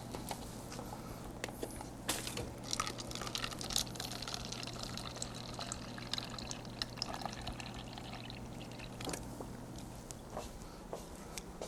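Water trickles and pours into a cup in a kitchen at a baby back ribs meal, faint and steady against a low hum, with scattered clicks and small handling noises throughout.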